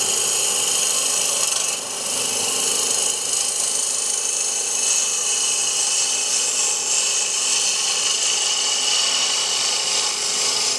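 A wood-turning tool cutting African Blackwood on a lathe running in reverse, a steady, loud, continuous scraping hiss with no break and no talk.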